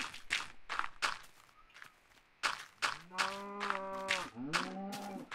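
A cow in the Minecraft video game lets out two close moos, one long and one short, after a series of soft, regular footsteps.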